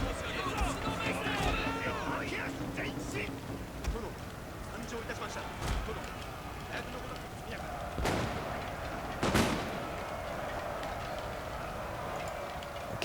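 Matchlock gunfire crackles through a Total War Shogun 2 battle, with scattered sharp volleys and a couple of louder cracks over a constant background din, and a voice talking throughout.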